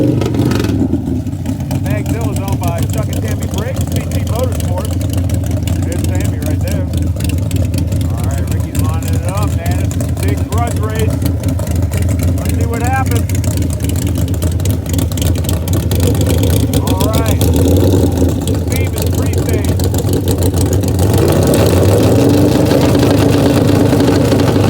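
Bagzilla, a bagger motorcycle owned by a couple, makes a drag racing pass: a steady, loud engine drone with rising revs runs throughout under crowd noise and talk.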